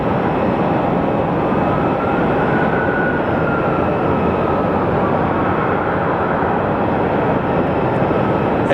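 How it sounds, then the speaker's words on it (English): Jet airliners depart Sky Harbor Airport, their engines a continuous, loud, broadband roar that holds steady throughout with no talking. "So this is the time the American Airlines flights depart."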